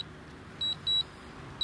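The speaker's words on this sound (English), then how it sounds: "You can hear the beeping, it is coming back." Short, high-pitched electronic beeps from a DJI Mavic Pro drone returning home, in an uneven sequence: two close together, then another after a pause, over a quiet background hum.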